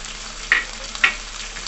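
A ground paste of onion, garlic and ginger hits hot oil in a pan for a pabda fish bhuna. It gives a steady, close sizzle with two sharp spatters.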